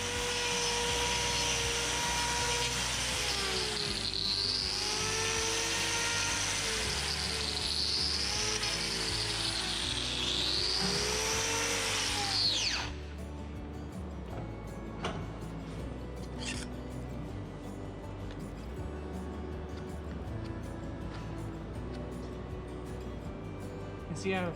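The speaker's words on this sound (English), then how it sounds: "I'm actually trimming that lateral claw, the outside one, at a funny angle" Cow's overgrown, twisted outer hoof claw trimmed with a power grinding tool, a loud continuous whine rising and falling in pitch for about half the time, then stopping; a voice talks throughout in the background.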